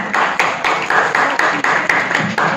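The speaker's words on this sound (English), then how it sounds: "So can we please give him a round of applause?" An audience at a trailer launch event for the web series Call Me Bae claps in unison, loud, sharp beats falling at a quick, regular rhythm with no voices over them.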